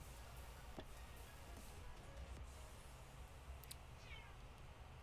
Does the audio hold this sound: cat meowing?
yes